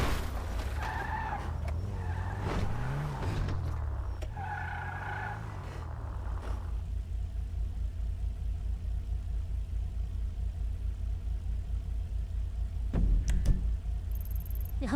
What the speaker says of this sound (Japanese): やっぱエンジンがやばい音してるから怖い怖い。